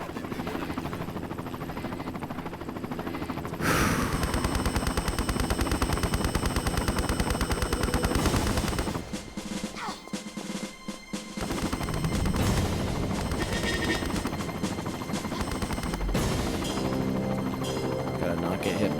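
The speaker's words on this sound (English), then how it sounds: "Gotta not get hit by this helicopter." Attacking helicopter in Tomb Raider 5 Remastered, a loud rotor drone under bursts of rapid gunfire that drops away briefly midway, then returns with the whir continuing.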